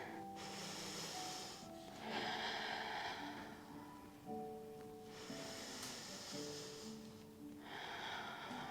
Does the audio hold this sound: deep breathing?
yes